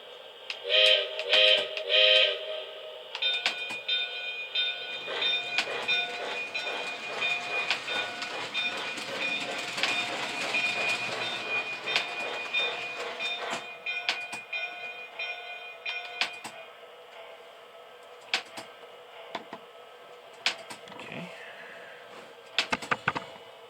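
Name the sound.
model train locomotive running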